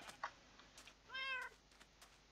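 A house cat gives a single short, clear meow, close but quiet, amid faint clicking in an otherwise quiet room.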